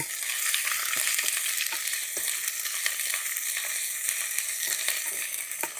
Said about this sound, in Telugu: ఇప్పుడు మనం నూరు పెట్టుకున్న మసాలా ముద్దనే వేసేసుకుందాం ఇది కూడాను చక్కగా పచ్చివాసన పోయే వరకు వేయించుకుందామండి